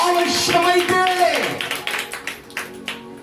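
Church congregation claps hands during a sermon, scattered sharp claps rising under and after a preacher's voice, fairly close and uneven in rhythm.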